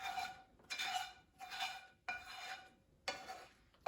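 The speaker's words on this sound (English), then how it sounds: "you can get a decent amount off just by scraping" A plastic scraper scrapes a dirty pan while dishes are washed with soap, giving four rhythmic rasping strokes about a second apart, close and fairly quiet, each with a gritty scratchy texture.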